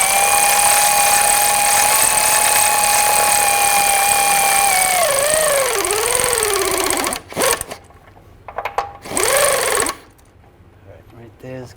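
A power tool snugs down a nut on a 2006-2010 BMW 550i rear lower ball joint, a loud steady whir that wavers and winds down, followed by short bursts of close, intermittent mechanical noise.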